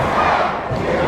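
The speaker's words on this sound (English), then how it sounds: "enjoying these chants of USA coming from our crowd" A packed wrestling arena crowd roars a rhythmic USA chant, loud and close, swelling and dipping across a short burst.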